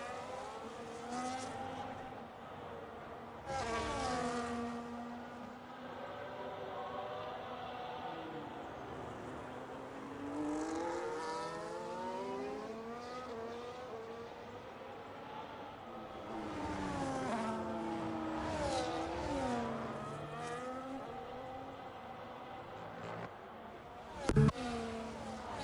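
Formula 1 race cars, a Ferrari and an Alpine, scream past in a racing game, engine notes rising and falling through gear changes as they run close together, with a brief thump near the end.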